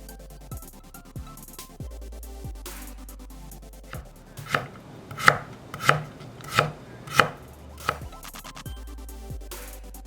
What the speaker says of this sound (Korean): 부재료 양파 반개는 굵게 채 썰고 당근 약간은 이렇게 썬다.